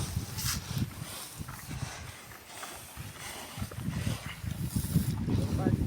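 Gusty wind buffets the microphone in uneven rumbling bursts, rising and falling, with some faint background noise between gusts.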